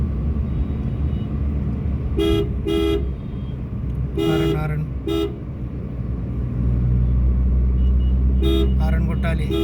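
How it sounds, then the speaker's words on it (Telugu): A car horn toots in short bursts during a driving lesson in Uppal, two quick beeps, then a longer blast, a short one, and a final pair, over a steady engine rumble and road noise with an instructor talking. "హారన్ కొట్టాలి"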